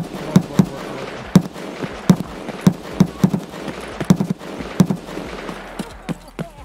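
SCAR rifle fire in Escape from Tarkov: a dozen or so sharp single shots in irregular runs, some close together, ringing out with echoey reports and no voices.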